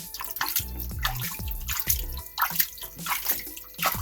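Tap water runs and splashes over a ball python being washed off, a steady near rush with drips and gurgles. No voices are heard.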